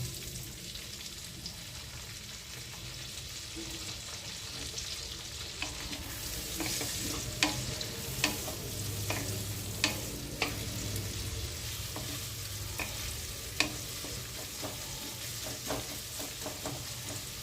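Chopped onions frying in a mix of oil and ghee for pav bhaji, a soft continuous sizzle that becomes busier midway, with scattered crisp pops and scraping stirs, close by and without speech.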